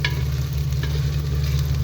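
A spoon stirs a spice mix with white cumin powder in hot mustard oil for bhindi fry, scraping the pan over a steady close sizzle in one brief continuous stretch.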